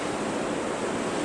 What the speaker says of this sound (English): I think it's a little bit lower right now, but we get a pretty good gust